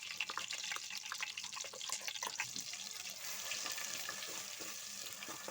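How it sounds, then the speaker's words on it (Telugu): Onion, green chilli, ginger and garlic masala paste frying in oil for an egg masala curry, a steady close sizzle with wet crackling and spattering pops throughout, no talk. "ఆ పేస్ట్ ఇప్పుడు ఈ ఆయిల్లో వేసుకొని ఫ్రై చేసుకుందాం"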